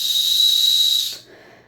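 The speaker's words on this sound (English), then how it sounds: "This has a whistle attached" A small whistle attached to a paracord bracelet is blown once, a loud, shrill, breathy tone held for about a second before cutting off.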